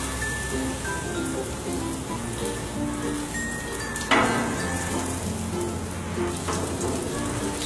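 Oil sizzling steadily on a hot tawa while suran and soya paneer kebabs cook, a continuous crackling hiss with a sharper burst of spatter midway and a low hum underneath.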